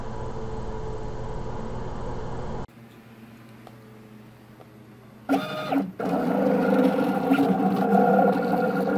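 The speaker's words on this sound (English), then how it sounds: "Look at that cutter go." A vinyl cutting machine cuts a design for a multi-layered tee, a steady mechanical whir and hum that drops to a quieter pause, then resumes with louder carriage movement and buzzing, close up without talk.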